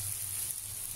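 Eggs hit hot onions in a pan for egg bhurji, giving a soft continuous sizzle and hiss at low volume with a faint low hum beneath; no speech.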